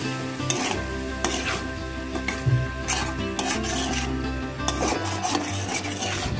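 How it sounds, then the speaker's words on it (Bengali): A spatula rubs and scrapes steadily through ground spices loosened with a little water in a hot pan, a continuous gritty stirring over a low sizzle, with occasional sharper scrapes. "গুঁড়ো মশলাটা মেশাতে মেশাতে ঢেলে দিচ্ছি অল্প জল,"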